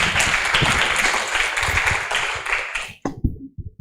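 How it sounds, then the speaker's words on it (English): Audience applause at an international seminar, a dense burst of clapping that fills the room for about three seconds and then stops abruptly, leaving a few scattered claps. "Maybe please give us applause, some applause."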